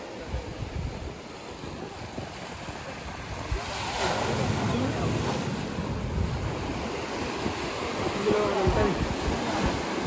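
Ocean waves roll onto a beach at Vizag with a steady, swelling wash of surf that grows stronger midway, mixed with gusty wind rumbling on the microphone.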